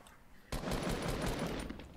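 Sudden rapid automatic gunfire from a Fortnite battle royale match, a loud sustained burst of close shots that starts abruptly after a quiet moment.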